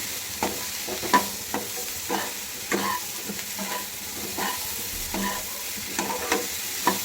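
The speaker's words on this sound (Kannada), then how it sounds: "ಅದೇ ಮಶ್ರೂಮ್ಗೆ ಪೆಪ್ಪರ್ ಪೌಡ್ರು ಉಪ್ಪು ಎಲ್ಲ ಹಿಡಿಬೇಕು ಅಂದರೆ ಸ್ವಲ್ಪ ಸಣ್ಣ ಇಟ್ಕೊಂಡೆ ಫ್ರೈ ಮಾಡಬೇಕು" Mushrooms fry in a pan with pepper powder and salt, a constant hiss of sizzling broken by regular scraping strokes of a stirring utensil, close and moderately loud with no voices.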